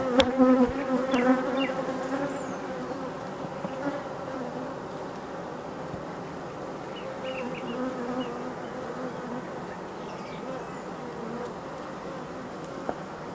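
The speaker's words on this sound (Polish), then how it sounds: "Coś za dużo tych pszczół siedzi." Honeybees crowded on a hive frame, a dense continuous buzzing hum that is loudest at first and then settles into a steady drone, close to the listener with no talk.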